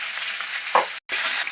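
Onion and green chillies sizzle in hot oil for a tempering with mustard seeds, cumin and dried red chillies, a loud continuous frying hiss with a brief stir, close up.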